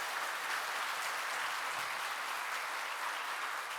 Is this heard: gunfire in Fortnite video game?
no